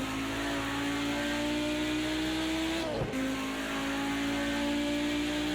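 An Audi Group B Quattro racing at Bathurst in Project Cars 2, its engine droning steadily, dipping briefly at a gear change, then pulling hard again under acceleration.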